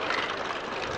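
A de Havilland Vampire jet aircraft at an airshow, heard as a loud, steady broadband engine roar, close and continuous over a brief moment, with no voices.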